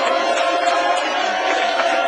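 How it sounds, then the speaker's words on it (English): A fired-up live crowd at Lucky's Pub in downtown Houston, a dense continuous roar of cheering and shouting voices, loud and close without pause. "This crowd is so fired up"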